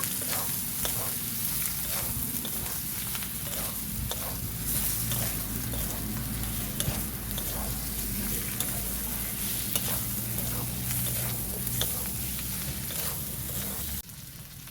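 Boiled meat stir-fried in a hot pan with a sautéed masala for meat khichuri, a continuous close sizzle broken by repeated scraping and stirring strokes, loud and steady, with a low hum beneath and a drop in level near the end.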